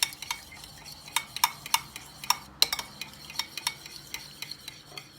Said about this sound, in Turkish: Bunu güzelce karıştıracağım.